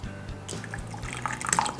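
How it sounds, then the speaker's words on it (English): Hot water trickles and splashes into a cup for a lemon and honey drink, a short close pour that grows a little louder toward the end. "Then put a bit of hot water in here."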